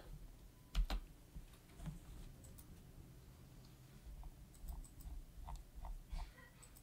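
A computer keyboard being typed on in a quiet room gives faint, irregular clusters of soft key clicks.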